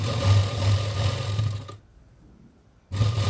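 A sewing machine stitches a blouse neck piece in a steady, close whirr, pausing for about a second before starting up again.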